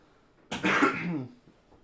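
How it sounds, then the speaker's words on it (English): A single harsh cough, close and fairly loud, lasting under a second in an otherwise quiet setting. "Excuse me while I cough."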